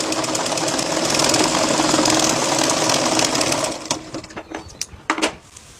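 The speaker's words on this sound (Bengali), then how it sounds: "আমি এই পাশে একটি সেলাই দিয়ে নিচ্ছি, সেলাইটা কিরকম হচ্ছে আপনাদের দেখানোর জন্য" A sewing machine runs as it stitches fabric, in a setting where stitches are bunching up on the underside. It gives a loud, steady mechanical whir for about four seconds, then stops and leaves a few scattered clicks and knocks.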